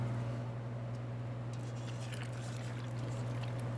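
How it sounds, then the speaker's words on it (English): Warm water and milk pour into vegan Filipino pandesal bread dough, a soft continuous trickling over a steady low hum, faint and with no talk. "So you can add in the water and the milk at this point now."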